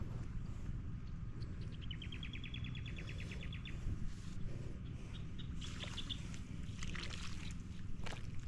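Strong water flowing during field watering: a steady, low rushing roar runs throughout, with bird chirps trilling faintly above it.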